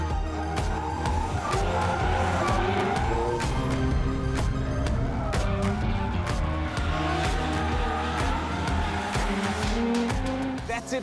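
Drift car on a race track, engine roaring continuously with tire squeal and skidding layered throughout, loud and close for the full stretch, with faint voices in the background.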